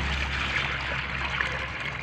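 Water poured into a large plastic dipper, a steady soft trickle and splash heard up close and fairly quiet, continuing unbroken throughout.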